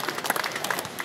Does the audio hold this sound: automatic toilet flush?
no